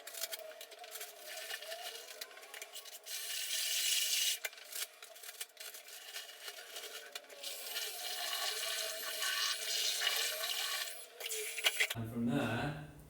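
A whisk churns self-leveling floor compound in a bucket, giving a steady wet scraping and sloshing that swells and eases for several seconds, then gives way to a brief lower rumble at the end.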